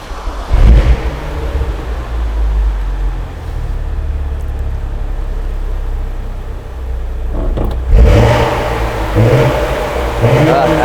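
A stage 3 tuned BMW 135i engine starts with a burst, idles with a steady low rumble, then revs up sharply several times near the end.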